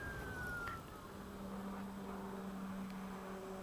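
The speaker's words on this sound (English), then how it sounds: "That is a plane right overhead. Sounded like a diesel truck crashing or something." A low airplane passes overhead beside a road during a ride on a 2015 Zero SR electric motorcycle, giving a loud, steady droning rumble with a sustained tonal hum that lasts the whole stretch, with no talk.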